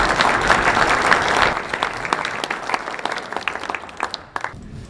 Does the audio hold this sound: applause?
yes